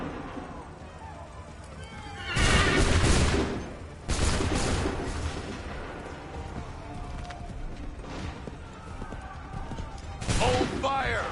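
A musket volley rings out in Assassin's Creed 3 as a burst of crackling gunfire, followed by a second burst later. Shouting voices and hoofbeats sound underneath throughout.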